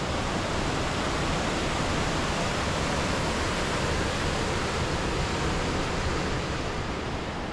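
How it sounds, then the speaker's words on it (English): A waterfall at Molinuco Waterfalls in Ecuador, hidden behind trees, roars as a dense, unbroken wash of falling water, loud and constant throughout. "Waterfalls behind the trees."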